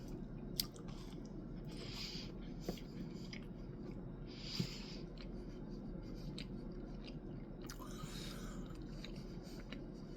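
Someone chewing and biting into a maple syrup white chocolate cookie, with soft crunchy bites and steady mastication sounds close to the mic, a few sharper crisp snaps scattered through, no talking.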